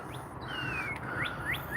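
A bird sings on a garden trail in Indiana, several short bright chirps and one longer descending whistle, fairly close and clear over a steady outdoor hum, with no voices.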